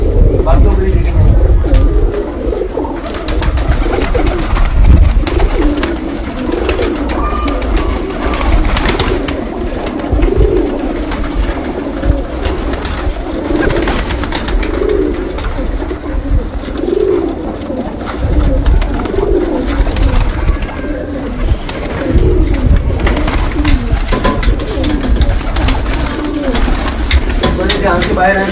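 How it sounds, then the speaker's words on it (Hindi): Pigeons of various breeds cooing in a loft, repeated low throaty coos rising and falling close by, with rustling and occasional voices in the background. "ध्यान से बाहर आए, कबूतर निकल गए"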